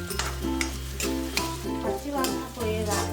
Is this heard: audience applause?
no